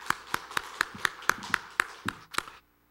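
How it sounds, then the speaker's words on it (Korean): A church congregation at a Sunday morning service claps in unison, about ten evenly spaced, crisp claps in a steady rhythm, then stopping abruptly into silence. "감사의 마음 담아 박수 보내드리겠습니다"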